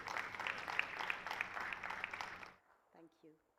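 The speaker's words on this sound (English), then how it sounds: "Let's welcome her with a round of applause." A crowd at an Odisha mining and metallurgy investment deal signing claps steadily for a couple of seconds, then the applause stops abruptly and a voice begins speaking.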